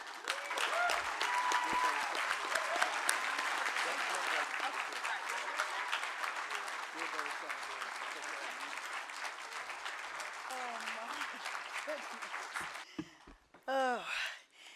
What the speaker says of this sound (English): let's give a big round of applause to the Lifetime Achievement Award, Miss Barbara Martin.